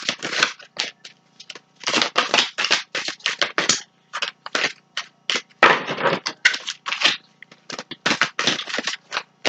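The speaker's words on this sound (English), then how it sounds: "I feel like I've been shuffling kind of backwards all night" Tarot cards are shuffled close up in quick, repeated bursts of papery riffling and slapping, with brief pauses in between.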